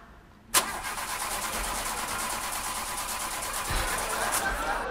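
A car engine cranks and catches with a sudden burst, then runs steadily at idle and rises slightly near the end, with no talk over it.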